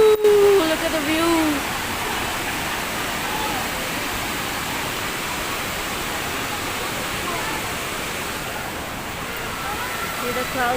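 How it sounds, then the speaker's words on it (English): Steady, loud rushing roar of the waterfall at Hogenakkal Falls in Tamil Nadu, heard from a hanging bridge and continuous throughout, with a brief tonal sound and faint voices near the start. "everyone come over this hanging bridge just to see the view of this beautiful waterfall"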